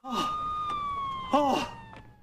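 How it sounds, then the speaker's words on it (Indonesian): A police siren wails nearby, its sweeping electronic tone rising and falling loudly over about two seconds, with a brief harsh burst in the middle. "suara sirine polisi terdengar"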